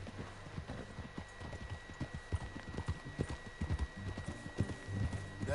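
Steady clip-clop of horse hooves at a walking pace in Red Dead Redemption 2, close and fairly loud, with a low droning background and no talking.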